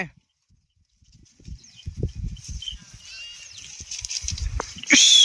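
A sheep bleats amid rustling and soft movement, with a brief louder burst near the end.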